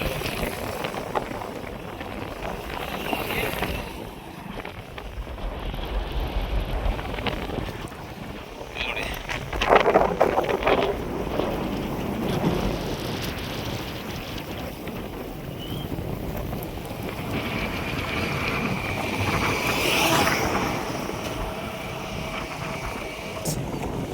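Floodwater from the KRS dam rushes along the rain-swollen Kaveri river near a bridge, a constant broad roar heavily buffeted by wind across the microphone, with a voice talking over it.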